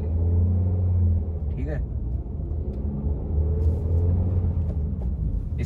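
A car engine hums low and steady while pulling away in first gear after a downshift from fifth, with mild rises in revs as someone talks over it.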